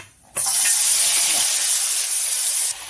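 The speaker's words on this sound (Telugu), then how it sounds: "ఇదే నూనెలో కట్ చేసుకున్నవన్నీ ఇలా వేసేసుకోవాలి" Chopped ingredients hit hot oil for an egg and dry fish curry, setting off a loud, steady hiss of sizzling that lasts more than two seconds before cutting off abruptly.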